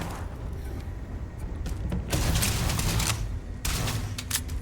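Rapid bursts of gunfire aimed at a heavily armored enemy in the video game Starfield, loud and close, coming in two dense volleys with a short lull between them.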